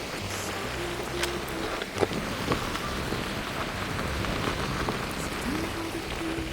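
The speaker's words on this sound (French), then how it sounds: "C'est un jour de pluie comme les autres." Steady rain pattering on surfaces as a dense hiss, with an occasional louder drop or knock and a low rumble underneath.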